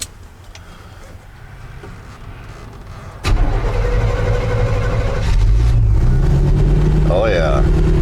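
The fuel-injected engine of a 1989 GMC dually truck cranks briefly, catches with a sudden loud start, then settles into a smooth, close idle that steps up slightly in level, with a voice speaking over it.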